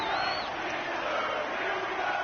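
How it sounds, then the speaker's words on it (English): Stadium crowd in an American football video game, a broad, steady roar of cheering voices heard from a distance, filling the whole moment without breaks, with no commentary over it. "The crowd getting into it as we come up on a big third down."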